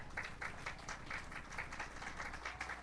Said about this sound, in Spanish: Dele un aplauso al Señor esta noche